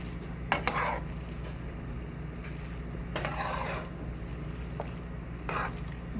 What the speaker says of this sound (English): Time to plate the pasta.